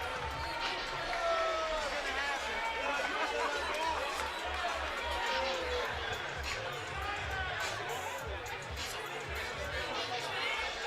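Boxing crowd at a Broadway Boxing card reacting as a heeled round card girl stumbles: a steady, dense murmur of chatter and scattered calls from a large indoor audience, fairly loud and continuous throughout.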